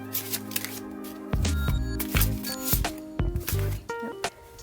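A Moonology tarot card deck being shuffled by hand, giving close, soft riffling and sliding card noises in uneven bursts with small taps and rustles, no talking.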